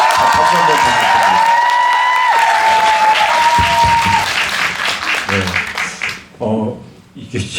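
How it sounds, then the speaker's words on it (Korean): An audience in a cinema applauds during a film talk, loud sustained clapping with a thin ringing tone over it early on. The applause fades and people begin speaking near the end. "김금순 선배님께 박수 한번 부탁드립니다"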